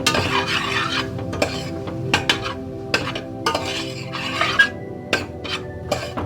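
Tomatoes mixed with salt, chili powder and coriander powder in a pan for okra rasam, a close spoon scraping and clinking repeatedly against the metal over a soft sizzle, with no voices.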